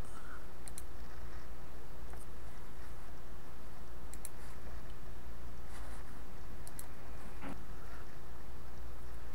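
A computer mouse clicks a handful of times, sharp and faint, at irregular intervals over a steady background hiss. No voice is heard.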